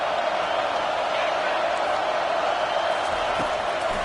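Football stadium crowd roaring steadily ahead of a third-down play, a dense, loud wash of cheering and noise that holds throughout without a break.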